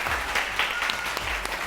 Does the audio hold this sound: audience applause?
yes